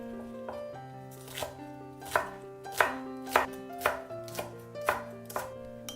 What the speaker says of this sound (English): Mince the spring onion.